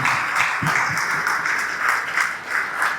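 Applause rings out at a chamber of commerce awards celebration, a dense, continuous clatter of many hands clapping at once, moderately close and steady for a few seconds.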